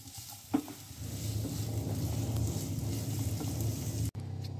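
Chopped ginger fries in a pan with a steady, close sizzle and soft stirring, a brief knock near the start and a short break just before the end.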